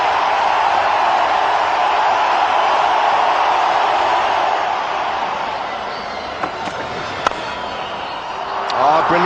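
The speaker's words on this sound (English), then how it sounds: "everyone gives him a huge round of applause because he deserves every bit of it" Crowd applause and cheering at a cricket match in Bangalore, a broad steady roar that fades slightly midway, with a few sharp claps and knocks near the end.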